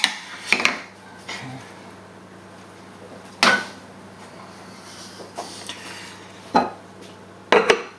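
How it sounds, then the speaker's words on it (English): A spoon stirs chicken in cider in a pot, giving a few scattered scrapes and clinks against the metal over a quiet, low background. "just give that a little stir to make sure it's all in there"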